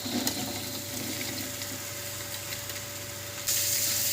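Onion stalks fry in a pan with potato and egg, giving a steady low hiss and sizzle throughout, with a brief louder surge of spitting near the end.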